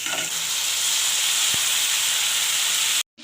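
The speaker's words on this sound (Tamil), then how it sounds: "ஸ்லோ ஃப்ளேமில் வச்சு இது நல்லா வதக்கணும்." Masala of turmeric, chilli powder and garam masala sautéing in a pan on a slow flame, a steady close hissing sizzle with a faint scrape near the middle, cutting off abruptly at the end.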